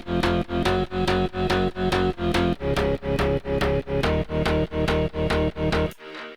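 A plucky guitar-like bass synth from an FL Studio EDM track, playing steady repeated chopped notes with a driving pumping rhythm, loud and full, ending abruptly near the close.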